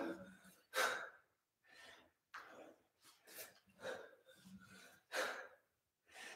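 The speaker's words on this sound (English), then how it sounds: "Breathing." Heavy breathing during a kettlebell snatch and swing workout: a series of sharp gasping inhales and forceful exhalations in an uneven rhythm, close to the microphone, with quiet pauses between breaths.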